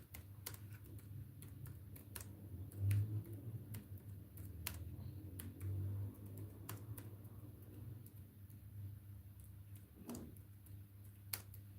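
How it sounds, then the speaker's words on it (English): Keys clack on a computer keyboard in irregular bursts of quick taps, close and moderately quiet over a low steady background hum, with no talking. "Let me type that."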